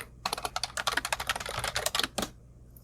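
Fingers type a quick burst on a computer keyboard, a close, steady run of crisp key clicks lasting a couple of seconds before stopping, with no talk over it.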